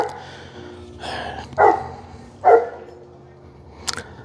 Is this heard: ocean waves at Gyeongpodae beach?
no